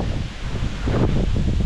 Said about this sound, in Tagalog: Kung may bagyo, lakas ng hangin oh.